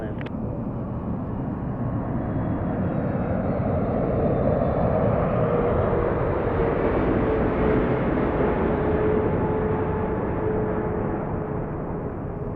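An airliner landing on runway 24 right at LAX makes a steady, broad jet roar that holds loud throughout the whole stretch, with a faint tonal whine rising and falling within it.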